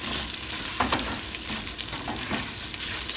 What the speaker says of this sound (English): saute them quickly inside the pan